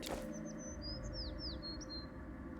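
A small bird chirps in the video game Pathfinder Kingmaker, a series of quick high whistled tweets and slides over a quiet ambient game background, faint and alone.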